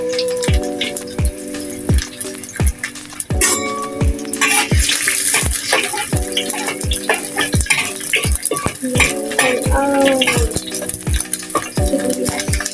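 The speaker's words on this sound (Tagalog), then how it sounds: "Lagyan na natin yung bawang." Chopped garlic hits a hot clay pot for a vegetable dish cooked in coconut milk, setting off loud, steady sizzling with repeated rhythmic knocks and clatter from stirring close by.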